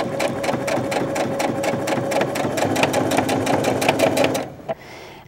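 A sewing machine runs fast while top stitching a seam, a rapid, even mechanical chatter of needle strokes that suddenly stops, followed by a soft click, close and loud with no talking.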